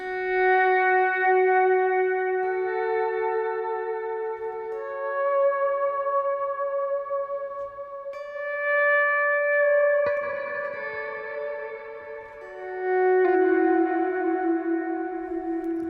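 Sustained electric guitar notes through a Strymon Blue Sky reverb pedal ring out one after another, each blooming into a long, washy reverb tail that overlaps the next.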